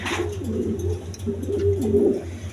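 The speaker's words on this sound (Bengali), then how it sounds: "এক পেয়ার পুরান জাতের কবুতর, সিলভার কবুতর" A pair of old-breed silver pigeons coo steadily nearby, several rolling, throaty coos following one another with brief pauses under a low background hum.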